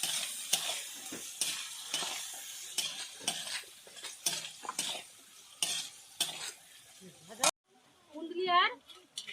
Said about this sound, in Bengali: এবার এর মধ্যে কুন্দুলিটা দিয়ে দিচ্ছি একসঙ্গে ভেজে নেব